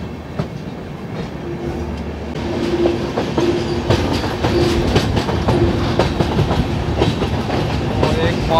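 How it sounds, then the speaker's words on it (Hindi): Tripura Sundari Express rolling along the rails through a curve, a steady rumble with repeated clickety-clack wheel beats that grows slightly louder partway through, no voices over it. "क्या कर्व ले रही है गाड़ी अब यहाँ से।"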